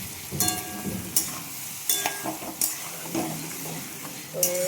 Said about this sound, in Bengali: ভালোভাবে কষাতে হবে মটনটাকে।